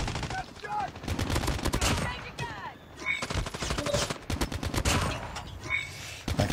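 Gunfire rattles continuously in a Call of Duty Mobile Halloween-event 10v10 match, with rapid automatic bursts and overlapping shots, loud and close, while game sounds swirl around them.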